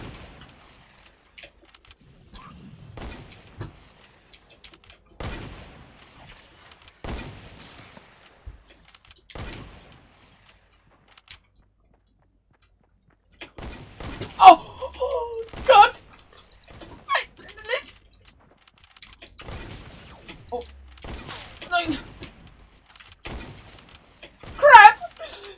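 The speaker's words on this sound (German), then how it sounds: "Jetzt schießt du schon auf mich." Gunfire in the video game Fortnite during a trickshot challenge: scattered sharp shots spread across the clip, sparse early, then denser bursts mixed with lively talk in the second half.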